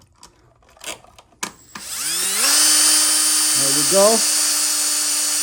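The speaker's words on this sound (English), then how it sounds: "Get my Milwaukee drill." A Milwaukee cordless drill whirs up at moderate speed, driving a screw into a USB wall receptacle, with a sustained rising whine and brief speed changes near the end after a few words of speech.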